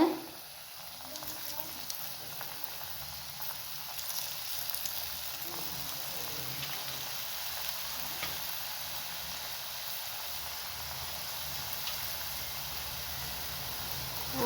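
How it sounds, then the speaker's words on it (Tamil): Banana balls frying in hot oil on a lowered stove flame, giving a steady, moderate sizzle and hiss that runs unbroken, with faint low background sounds beneath. "இத்தனை நான் வறுக்கிறேன்."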